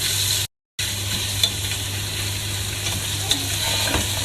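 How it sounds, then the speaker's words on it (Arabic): Carrots and onion stir-frying in hot oil in a pan, a soft steady sizzle with faint scraping stirs, briefly cut to silence near the start, no talk. "حطيت زيت بالمقلاة، راح احط عليه جزر وبصل، خليته لما تشوح عدل"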